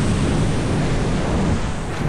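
Steady, loud wash of sea waves and surf rolling on calm, breezy fishing weather, a continuous broadband roar with no voices.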